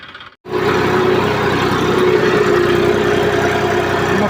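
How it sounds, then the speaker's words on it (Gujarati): A tractor engine runs in a peanut field during groundnut harvesting: a steady, close, loud drone that starts abruptly after a brief silence and holds evenly throughout, with no voices. "તો ટ્રેક્ટર આવી ગયું હેતમાં આ હેતરમાં અને પેલ બાદના હેતરમાં"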